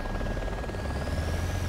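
Helicopter rotors in the military game ARMA 2 give a dense, steady thumping drone with a constant engine whine, loud and close, holding without a break over the short span.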